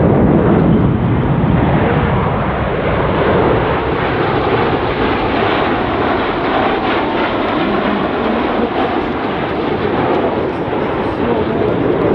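Red Arrows jets of the RAF flying past in formation at the Canadian International Air Show make a loud, continuous roar that holds steady for the full twelve seconds, with no break or quiet moment.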